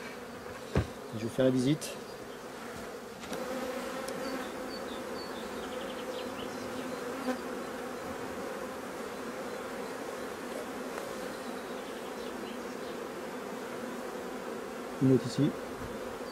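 Honey bees at a hive after a swarm has left, a steady dense buzzing drone throughout, close and even, with a few brief handling knocks and short French speech in the clip.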